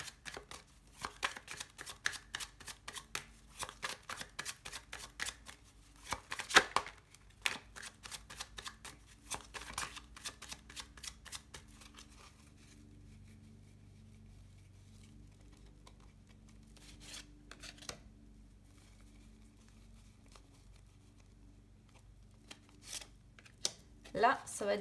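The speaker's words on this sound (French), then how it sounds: "je vais cette fois-ci tirer les cartes" Tarot cards are shuffled in quick, crisp riffling bursts, then fall quiet with occasional soft snaps as cards are drawn and laid down, close and intimate, with a voice speaking at moments.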